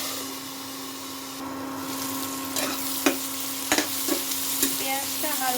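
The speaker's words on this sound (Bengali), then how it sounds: "পেঁয়াজটা হালকা করে ভেজে নিতে হবে।" Onion fries lightly in a pan while it is stirred, a steady hiss of sizzling oil with a low hum behind it and occasional sharp scrapes and clinks of the spoon against the pan.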